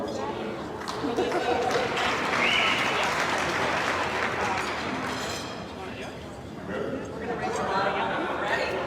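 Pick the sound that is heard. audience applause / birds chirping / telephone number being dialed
audience applause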